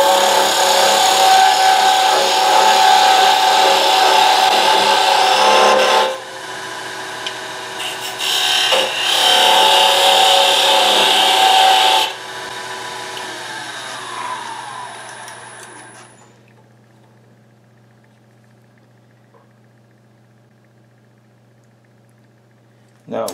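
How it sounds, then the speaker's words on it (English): A parting tool cutting into a spinning wooden mortar-and-pestle blank on a lathe, reducing the diameter toward three-quarters of an inch; loud, steady broadband scraping comes in bursts with brief pauses, then fades to a low motor hum. "We're going to use the parting tool to take that diameter down to 3/4 of an inch."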